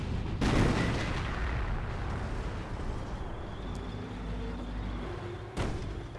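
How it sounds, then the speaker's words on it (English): Tank cannon fire striking a base in Company of Heroes, a loud blast at the start and another near the end over a continuous rumbling backdrop of battle noise. "there's a tank shooting at my base right now"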